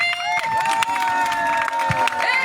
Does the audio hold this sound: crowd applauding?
yes